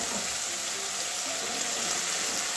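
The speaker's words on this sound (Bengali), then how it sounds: "এবারে জল দিয়ে দিচ্ছি হালকা একটুখানি" Water poured lightly into a pan of mustard fish curry made with small kachki fish, a steady close wash of liquid with no voices.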